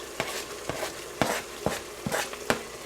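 Chopped onion browning in a pressure cooker for chunky tomato pasta sauce, sizzling in the pot while it is stirred: regular sharp scrapes of the spoon sound close over a low, constant frying hiss, with no voices.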